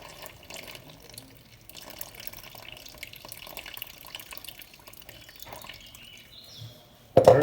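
260 grams of water is poured from a tap or jug into einkorn and emmer flour for sourdough, a soft, steady trickle with light splashing that ends in a sudden louder knock.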